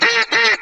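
A duck call is blown to imitate a duck, giving three loud, raspy quacks in quick succession, close and alone with no talking.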